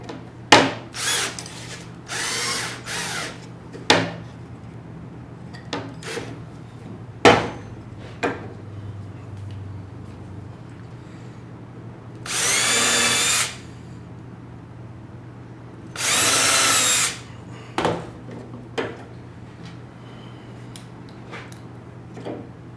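A power drill drives short screws into wood for a homemade mouse trap, in two sustained bursts of a few seconds each. Sharp tapping and knocking sounds fall between and around them, with no talking.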